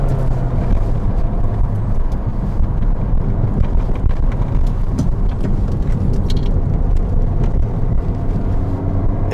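A 2008 Mini Cooper S's small turbocharged engine pulls uphill under acceleration, a steady loud drone inside the cabin mixed with road and wind rumble, continuous throughout.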